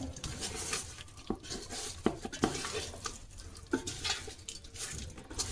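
Tamarind pulp, salt, chilli powder and oil for a Nellore fish curry being stirred together in a bowl, with close, busy scraping and clinking of a utensil against the vessel and no voices.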